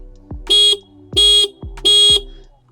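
Horn of an Aprilia SR 175 scooter, 2025 version, sounds in three short, loud, evenly spaced blasts, each a bright buzzy electric tone with brief clicks between, no voices.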